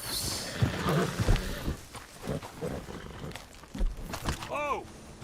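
A horse in the Red Dead Online video game clops and snorts, then gives a short whinny near the end, mixed with game ambience and people talking.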